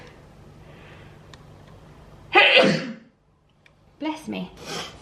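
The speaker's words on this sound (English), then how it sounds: "I'm going to sneeze." A single sharp human sneeze bursts out after a quiet stretch, close and fairly loud, followed by a pause and then some soft breathy vocal sounds.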